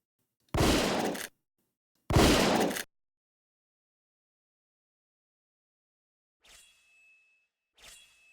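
Two loud, close shotgun blasts from the Trog video game ring out about a second and a half apart, followed by silence and then two faint metallic clinks.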